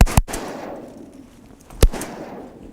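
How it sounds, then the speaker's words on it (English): Two sharp gunshots ring out during a duck hunt, a loud close report followed by a second shot about a second and a half later, each trailing into an outdoor decay. "Good shot, whoever got that."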